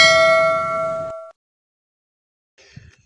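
A notification bell sound effect rings once, a bright clear chime that sustains then cuts off abruptly, followed by silence and a brief faint rustle.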